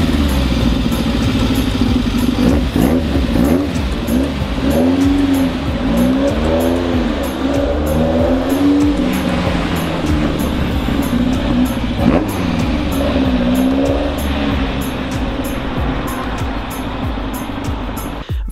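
A tiny, roughly 400 kg race car's 1.5-litre four-cylinder engine drones loudly and continuously, revs rising and falling in sweeping waves, with a gritty, buzzing tone throughout.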